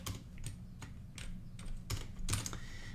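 Typing on a computer keyboard while writing code, a close, quiet run of irregular key clicks and taps with short pauses between bursts and no speech.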